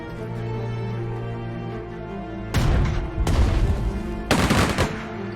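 Anti-tank guns firing in the WWII strategy game Strategic Mind at Dunkirk, three sharp loud blasts with rumbling tails breaking over a steady droning background of engines and music.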